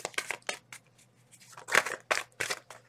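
Tarot cards being shuffled by hand, a handful of quick, crisp riffling bursts with short pauses between them, close and fairly quiet.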